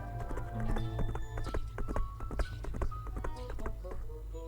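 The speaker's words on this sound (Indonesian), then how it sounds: "tiba-tiba dari kejauhan terdengar derap seekor kuda" Hooves of a single horse clip-clop in a steady, fairly close rhythm, set inside a spoken children's storytelling piece with a low backing drone beneath.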